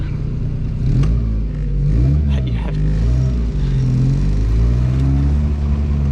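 A 1996 Morgan 4/4 with a modern drivetrain gives a steady, loud engine drone that swells and dips with sluggish throttle blips, its pitch rising and falling slowly across several seconds, heard close up with no talk.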